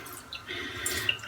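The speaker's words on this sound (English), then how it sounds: "So just gonna pour out the water here." Water is poured out at a sink during a shave, giving a faint, brief splashing trickle with a few drips close by.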